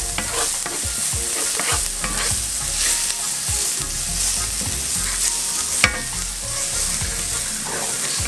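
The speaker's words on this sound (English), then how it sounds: "Working on a medium heat, I'm just going to saute these garlic really quick." Garlic and thyme sautéing in a pan over medium heat, a continuous close sizzle and crackle broken by repeated scraping stirs, with one sharp clink near the end.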